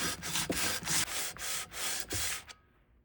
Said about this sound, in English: now all I have to do is sand it down